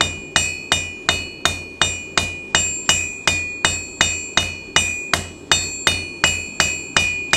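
A hammer strikes a hot 8-inch nail on an anvil while forging a hook, sixteen or so sharp ringing metallic blows in a steady, even rhythm, each with a bright ring that decays quickly, close and loud.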